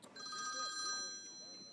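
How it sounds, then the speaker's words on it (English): A telephone ringtone sounds in a football manager video game, a steady electronic ring with sustained tones that starts near the beginning and carries on throughout, with faint voices and background game sound underneath. "My phone's ringing."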